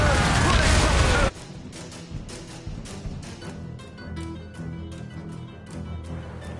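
A loud, broad blast of ship cannon fire in a naval battle video game fills the opening second. Quieter scattered impacts and faint booms follow under background game sound.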